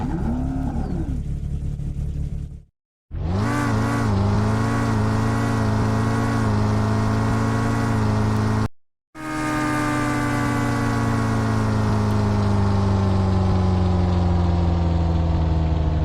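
A loud car engine in the Roblox game Jailbreak revs up and holds at high pitch, steady and close, with brief cut-outs as it shifts gears; no talking.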